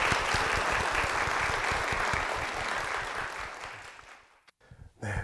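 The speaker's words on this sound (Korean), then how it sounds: "박수를 한번 모시겠습니다." A church congregation claps to welcome a brother coming forward, a full, lively round of applause that holds strong and then tapers off into near silence with a few soft sounds at the end.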